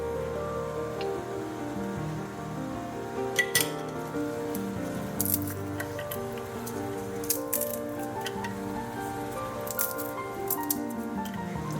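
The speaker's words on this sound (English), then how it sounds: "I'm gonna crush in some walnuts." Walnuts are crushed into dark chocolate with soft squishing and crunching, plus a few sharp clinks and rattles over a low steady background hum.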